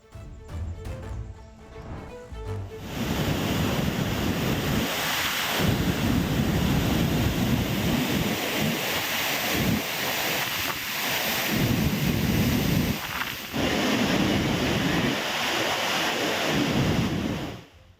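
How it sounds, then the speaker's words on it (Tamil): Floodwater roars down the Vaigai river at Andipatti in Theni after heavy rain. A loud, continuous rushing surge with swelling gusts follows a brief stretch of music at the start. "தேனியில் பெய்த கனமழையால் ஆண்டிப்பட்டி வைகை ஆற்றில் ஆர்ப்பரித்து ஓடும் வெள்ளம்."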